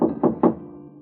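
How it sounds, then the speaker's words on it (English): Three firm knuckle knocks on a door marked 4 in a radio crime drama, evenly spaced and close, with a short fading resonance after the last rap. "you rub your knuckles against a door marked 4"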